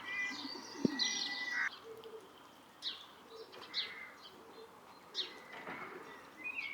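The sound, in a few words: racing pigeons cooing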